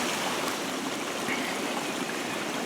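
A small creek in Salt Fork State Park flows steadily nearby, a continuous broadband rush and trickle of water with no talking.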